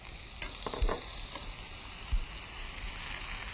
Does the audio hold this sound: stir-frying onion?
yes